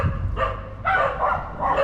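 Several dogs bark in bursts in a small French town, the barks coming in clusters over a low background rumble with no talk.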